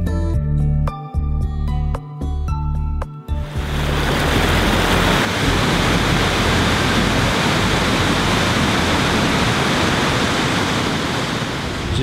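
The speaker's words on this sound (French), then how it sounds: "Je n'ai jamais vu autant de cascades au kilomètre carré." Waterfalls in southern Laos give a loud, steady rushing roar of falling water that takes over after a few seconds of music and keeps going unbroken to the end.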